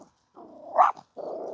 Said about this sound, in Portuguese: Aí, ó, já tá latindo.